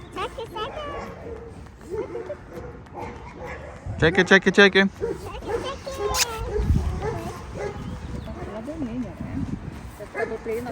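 A small puppy at an animal shelter gives soft yips and whimpers, close by and intermittent. A child and an adult talk over it and other noise from the shelter sits in the background.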